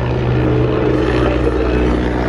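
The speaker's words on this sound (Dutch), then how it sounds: "Helikopter." A helicopter passes overhead, a steady, loud droning rotor and engine roar that fills the whole short stretch without letup.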